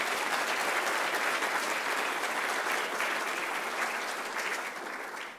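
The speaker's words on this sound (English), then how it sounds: "a big round of applause for the students" An audience at a student presentation event breaks into sustained applause, a thick, even wash of clapping that holds steady and then tapers off at the end.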